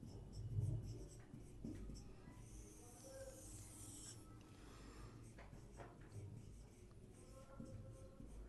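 Pen or pencil scratching across a notebook page, soft continuous strokes with small pauses, quiet and close in a calm room.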